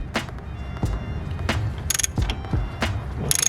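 A socket wrench barely loosening the fuel rail pressure sensor on a Mazdaspeed 3 / Mazda CX-7 2.3 engine, near the intake manifold, gives scattered close mechanical clicks and ratchet ticks with faint handling noise.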